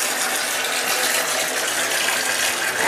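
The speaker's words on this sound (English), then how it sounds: "So I'm gonna go ahead and just turn on the water." Hot water gushing from a tap into a bath, a steady full rushing splash, close and continuous with no talk.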